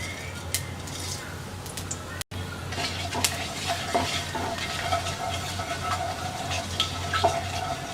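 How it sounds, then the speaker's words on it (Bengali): Whole spices sizzle in hot mustard oil in a karahi for a jackfruit pickle, a steady close frying hiss with scattered sharp crackles and light clinks of a utensil against the pan. "তেলটা গরম হয়ে গেছে দিয়ে দিচ্ছি হাফ চা চামচ আস্ত ফোড়ন"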